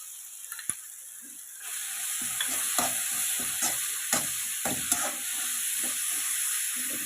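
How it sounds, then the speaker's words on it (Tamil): Ginger garlic paste sautéing with curry leaves in a pan for chicken curry, a steady close sizzle with scraping stir strokes throughout, no talking. "இஞ்சி பூண்டு வந்து பச்சை வாடை போகிற வரைக்கும் வதக்கலாம்."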